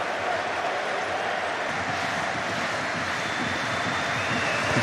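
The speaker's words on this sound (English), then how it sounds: "Crowd urge him on" A rugby stadium crowd roars steadily behind the goal as a kick is struck during a Leinster versus Union Bordeaux Bègles Champions Cup match, a dense wash of cheering that swells slightly at the end.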